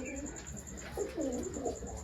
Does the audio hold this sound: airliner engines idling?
no